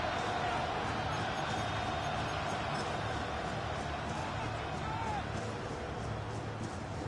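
Steady roar of a packed football stadium crowd at a Ravens–Titans game on third and inches, as fans try to force a false start; a continuous dense wash of noise with no clear peaks, mixed with an announcer's voice.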